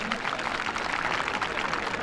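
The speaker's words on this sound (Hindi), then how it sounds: "आप एक बार जोरदार तालियों से आपका स्वागत करें" Audience applause at a Voter Day (Matdata Diwas) official gathering, welcoming the district magistrate and election officers, a steady dense wash of many hands clapping that holds evenly for about two seconds with no voice over it.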